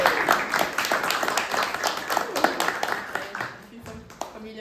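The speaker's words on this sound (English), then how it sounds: "So, round of applause" Audience applause at a book launch event in Dublin, a fairly close round of clapping that holds steady then thins out toward the end as a few scattered claps linger.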